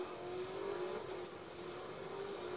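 A Koenigsegg engine in the racing game Need for Speed: Most Wanted hums at a steady, rising pitch, a smooth sustained drone heard alone at low volume.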